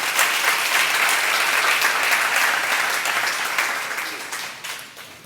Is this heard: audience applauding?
yes